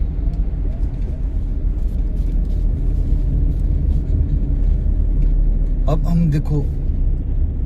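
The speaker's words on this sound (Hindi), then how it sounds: "चढ़ाई को जा रही, हमने डाला सेकंड गियर" A car climbs a hill in second gear on a driving-practice road in Solan, its engine giving a steady, loud rumble throughout while someone talks over it briefly.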